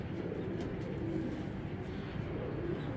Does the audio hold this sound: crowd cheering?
no